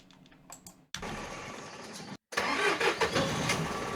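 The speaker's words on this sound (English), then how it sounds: "ignition on and the sound, engine sound, and at the end it dies away" Car engine ignition and start sound effect for a desert driving game: a brief clicking ignition, then the engine catches with a sudden loud roar, cuts out for a moment, and resumes running steadily.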